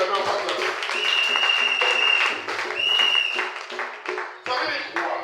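A church congregation breaks into applause and acclaim at a French-language service, steady clapping and crowd cheers with a voice calling out over them and a sustained whistle-like tone rising through the noise.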